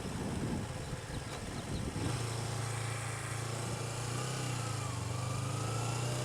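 A motorcycle rides past a retirement community with a steady, fairly quiet engine drone that settles into a smooth, sustained hum, mixed with wind rush.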